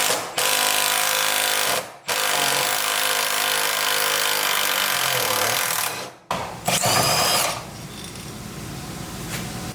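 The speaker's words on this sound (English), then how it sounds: "the first thing I'm gonna do is get this sway bar off." A loud power tool grinds or cuts at the sway bar underneath a Jeep Cherokee XJ in long continuous bursts, separated by brief pauses, ending with a rougher, scraping stretch.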